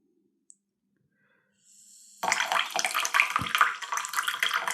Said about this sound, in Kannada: ಸಮ್ಮರ್ಸಬಲ್ ಪಂಪು.